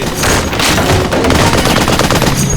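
Rapid bursts of gunfire on a film set, many shots overlapping in a dense volley aimed at a tree that grows more rhythmic and sustained toward the end, loud and close.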